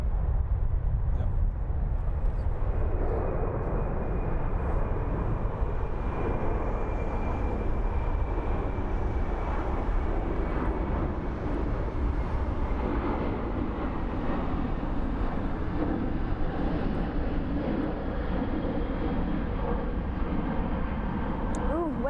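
An airliner taking off at Frankfurt airport, a continuous broad engine roar that swells and holds steady at a distance, with faint talk underneath.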